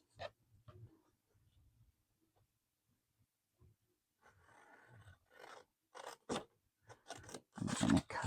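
Scissors snip through paper scraps in quiet, close, irregular cuts, faint at first and then louder crunchy snips in quick clusters near the end.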